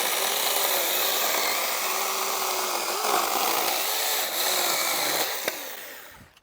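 A Seesii 8-inch mini chainsaw cuts into freshly cut, wet, sappy timber, giving a steady, loud buzzing whine with slight pitch dips as the chain bites, running continuously for several seconds before winding down near the end.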